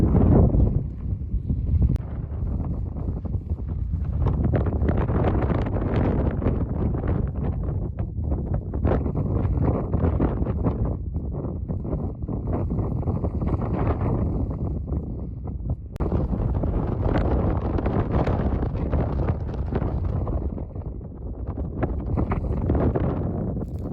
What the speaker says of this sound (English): Sorry guys, it's so windy.